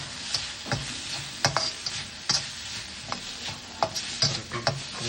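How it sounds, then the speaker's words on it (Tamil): Masala sautés in a pan for palak paneer, with a faint, steady sizzle broken by light, irregular scrapes and taps of a stirring spoon. "ஒரு 2-3 மினிட்ஸ் நல்லா வதக்கணும்"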